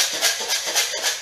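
Dried chickpeas rattle inside a homemade handheld shaker, shaken in an even back-and-forth pulse of about four crisp, gritty swishes, close and fairly loud, with no voices.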